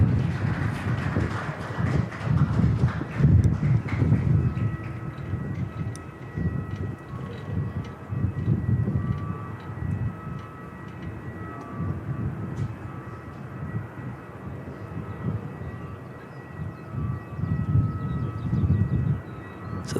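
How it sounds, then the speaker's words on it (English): ATR turboprop arriving at Christchurch Airport from Nelson, a moderate droning engine roar that swells and fades under wind noise, with a faint steady propeller tone and no speech. "We'll just see the ATR come in from Nelson,"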